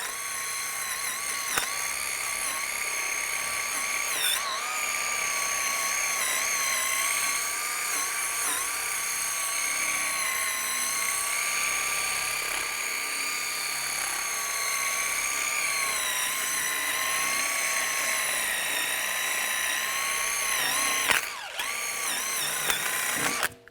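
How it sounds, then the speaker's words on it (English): A high-pitched power tool whine runs almost nonstop as a die grinder cleans the front wheel hub of a 2004-2010 BMW X3 during a CV axle replacement. The pitch wavers slightly, with a few brief clicks and a short break near the end. "Now I'm going to clean up the hub area. You can use a wire brush or a die grinder."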